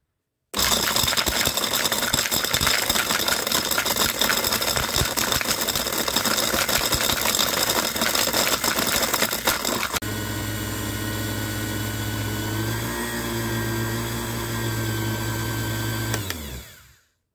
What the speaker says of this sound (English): Taking me a half hour of grinding on and off just so I could let the motor rest from time to time to get this into a powder